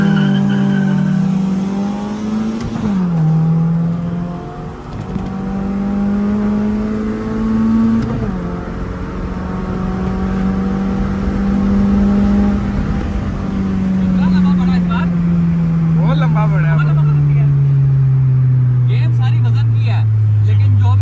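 Two modified 1500cc cars, a Suzuki FX and a Swift GTI, racing side by side: loud sustained engine drone rising and falling with gear changes and revving, close to the microphone, with people talking over it.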